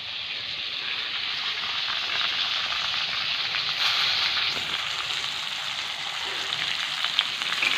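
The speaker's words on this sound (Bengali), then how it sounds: "এই যে আলু কাঁচকলা ভাজা চলছে" Potato and green banana slices fry in hot oil with a steady, close, loud sizzle that crackles evenly throughout, with no voices.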